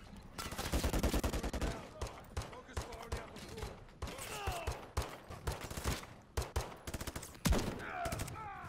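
Sentry gun firing in Call of Duty Modern Warfare 3 on the Trojan Horse mission, heard as loud bursts of rapid automatic gunfire repeating through the clip, with a voice speaking over parts of it.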